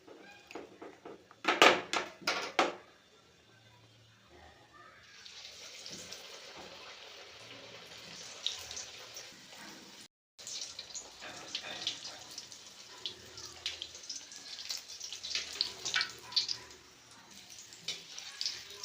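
Dal puri deep-frying in hot oil gives a continuous bubbling crackle at moderate-low volume. It follows a few sharp clattering knocks at the start and pauses briefly midway.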